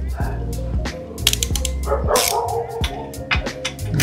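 An allen key loosening the exhaust cover bolts on a Ninja 400 motorcycle, heard as repeated sharp ratcheting clicks and metallic scraping at close range over a steady low drone.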